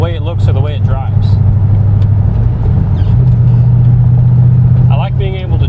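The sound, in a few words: LS2-powered Datsun 280Z driving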